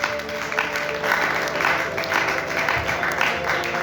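A church congregation applauding and cheering loudly for about four seconds, a steady wash of clapping with voices mixed in.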